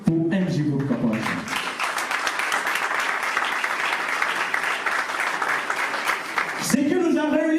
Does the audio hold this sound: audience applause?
yes